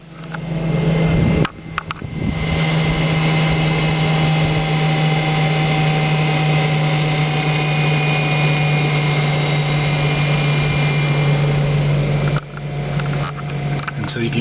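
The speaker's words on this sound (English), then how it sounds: "And so you can hear it's kind of a purring sound." Daytona electric vehicle motor spinning steadily at about 3,400 RPM, a loud continuous purring hum with a steady tone and high whine, briefly dipping near the start and end.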